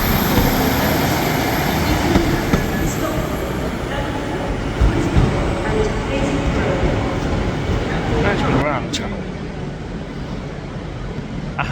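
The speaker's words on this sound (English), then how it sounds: "let's go through those doors and onto the platforms of Manchester Piccadilly" Trains at the platforms of Manchester Piccadilly station on a chilly morning: a steady, loud wash of rail and station noise with a rumbling low end, continuous throughout, with occasional clunks.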